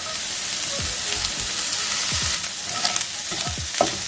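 Sardines sizzle in a hot pan while being stirred, a continuous close frying crackle broken by repeated scraping strokes of a utensil against the pan, with no voices.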